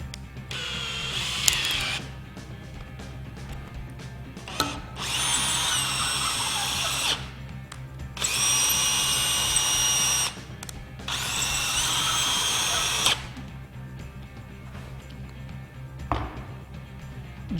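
A drill drives a GRK Caliburn XL washer head concrete screw in three sustained whirring bursts, each a couple of seconds long, with ratcheting clicks under a steady low hum.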